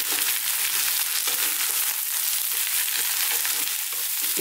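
Cauliflower stirred and fried in a pan, a loud dense continuous sizzle with crackling and stirring scrapes throughout, close and without voices.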